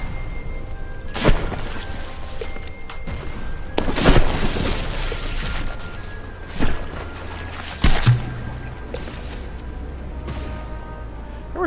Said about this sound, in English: There were two explosions there.